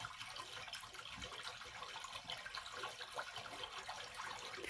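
Fresh water pouring steadily from a stone fountain spout at the Tirta Empul temple pool in Bali, a continuous faint splashing rush with no voices.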